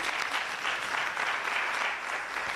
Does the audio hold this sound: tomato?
no